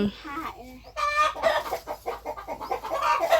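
Several chickens cluck and squawk close by in quick, uneven bursts, their calls overlapping almost continuously.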